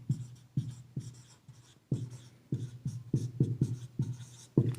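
A pen writing out an answer on paper during a practice-set walkthrough, heard close and quiet as a series of short scratchy strokes in an irregular rhythm, alone without talk.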